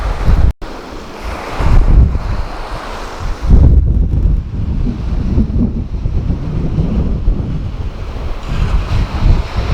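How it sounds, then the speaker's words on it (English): Waves of an incoming tide wash and roar steadily below honeycomb sea cliffs, with strong wind buffeting the microphone throughout and no voices. "The tide is coming in."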